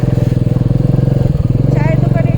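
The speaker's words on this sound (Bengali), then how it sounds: "খুব জোরে বাইক চালিয়েছে" A motorcycle engine throbs loudly and close with a steady rapid pulse while ridden fast on a road trip from Howrah to Purulia, with brief voices over it near the end.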